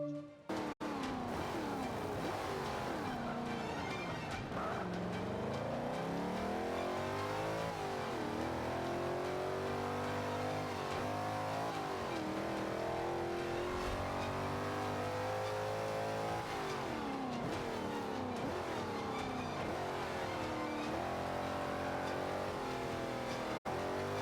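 A modern muscle car engine in a video game roars continuously, revving up and down through repeated accelerations with occasional tire noise, loud and close for the whole stretch.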